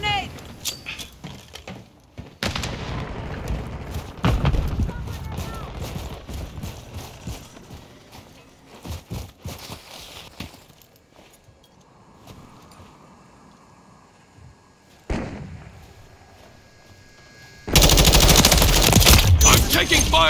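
Grenades and gunfire in Call of Duty Modern Warfare 3 Team Deathmatch on the Derail map, dense bursts and rattling shots with a loud roaring blast near the end.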